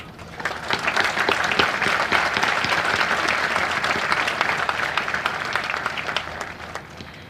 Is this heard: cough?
no